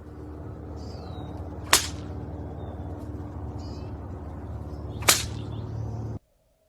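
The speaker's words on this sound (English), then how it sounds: "Years later, she even found her old whip and showed off she still has the moves." An old whip cracks twice, a few seconds apart, each a sharp loud snap over steady background noise and faint birdsong outdoors.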